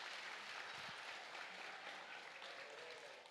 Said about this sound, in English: let's give a really nice round of applause for all these exhibitors out here in the ring.